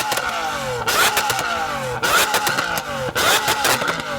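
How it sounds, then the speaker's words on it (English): A Lamborghini Aventador with a Gintani exhaust, valves open, is revved hard at a standstill, giving three loud, sharp blips of the V12 that each rise and fall back toward idle, close and unaccompanied by speech. "So I'm going to rev up my Aventador."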